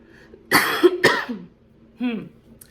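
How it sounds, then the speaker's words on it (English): Two sharp coughs close to the microphone, a brief pause, then a third rougher cough, with faint background hum between them. "These coughs, man."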